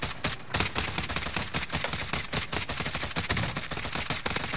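Rapid, dense gunfire from automatic weapons fills a Call of Duty Warzone (Cold War) match, sustained bursts overlapping continuously and loudly throughout with no clear pauses.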